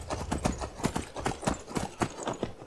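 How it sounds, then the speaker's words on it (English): A white horse in the video game Skyrim gallops in a fast, steady rhythm of hoof beats that stays close and clear throughout. "It's a white horse."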